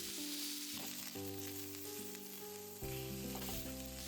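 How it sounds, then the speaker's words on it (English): Chicken for oyakodon stir-fries in a pan until browned, giving a steady sizzle under background music with no talking. "I stir-fry them until the ingredients are browned"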